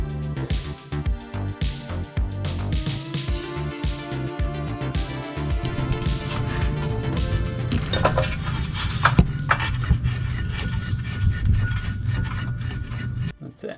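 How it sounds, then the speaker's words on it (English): A small bracket on a Mazda Miata rally build scrapes and rubs against the drive shaft, giving a continuous metallic grinding and rattling with rhythmic rubbing pulses, close and fairly loud. "All it was that little bracket rubbing against my drive shaft."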